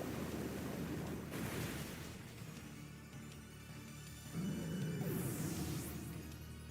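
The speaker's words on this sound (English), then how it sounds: "Muddy Water takes out Incineroar." A Muddy Water attack in a Pokémon Gen 9 battle, heard as a loud, sustained surging wash of water-like roar that dips in the middle and then swells again with a rising whoosh near the end.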